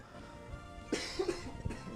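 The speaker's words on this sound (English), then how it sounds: "I had a cough." A single close cough, followed by a short throaty burst, in an otherwise quiet room.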